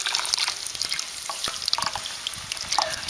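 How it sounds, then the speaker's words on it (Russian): Thick tomato paste goes into vegetables frying for borscht over an outdoor grill, giving a continuous close sizzle with scattered stirring clicks and bubbling, and no one speaks. "и теперь заливаем томат"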